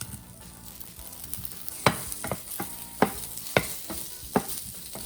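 Spam cooking in a heated, unoiled pan, with a soft continuous sizzle and several sharp scraping knocks as the pieces are stirred, close and moderately loud with no talking.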